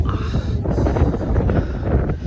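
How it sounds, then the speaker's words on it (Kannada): Strong wind on a hilltop at dawn during a pre-sunrise trek up Uttari Betta, roaring steadily across the microphone for the whole stretch, with gusty low rumble and no talk. "ಸಿಕ್ಕಾಪಟ್ಟೆ ಗಾಳಿ ಇದೆ."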